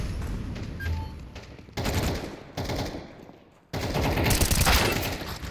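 Bursts of gunfire in a first-person shooter game, loud, close volleys in several separate clusters with short gaps, the last and longest burst sounding heaviest.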